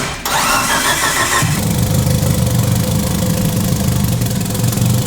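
A tuned Mitsubishi Evo making about 2000 horsepower cranks briefly, then catches and roars into a loud, steady rumbling idle close by.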